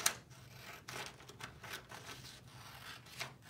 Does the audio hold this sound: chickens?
no